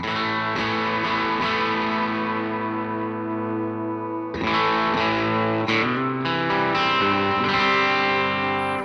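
Electric guitar played through a Line 6 DT25 112 tube combo amp set for a Vox-style tone with treble pushed, ringing chords with effects and sustain, a brief pause, then more strummed chords, close and alone.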